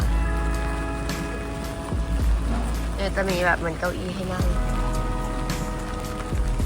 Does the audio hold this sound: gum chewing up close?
no